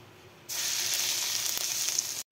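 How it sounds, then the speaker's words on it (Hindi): Mustard oil sizzles loudly in a pan, a steady bright hiss that starts abruptly and holds for about two seconds before cutting off, with no talking. "तो ये मैंने डाल दिया सरसों का तेल इसमें।"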